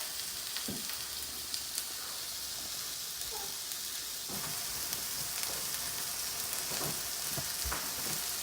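Food frying in a home kitchen pan, stirred now and then: a steady sizzle and hiss runs throughout, broken by a few scraping stirring strokes, with no talk.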